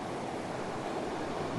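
Sea waves wash steadily over a rocky shore under a dramatic sky, with a continuous broadband roar and some wind noise on the microphone, and no one speaking.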